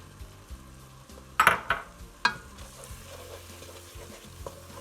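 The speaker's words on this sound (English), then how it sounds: "Stir it in." A spoon stirring flour into mushroom bisque in a metal pot: a few quick scraping, clinking strokes close by, with a soft simmer in the background and a quiet stretch afterward.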